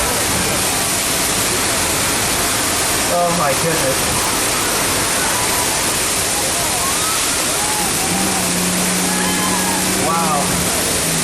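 Water bursting from a simulated broken water main on a Universal Studios ride roars as a loud, steady wall of rushing water, with brief exclamations from riders breaking through.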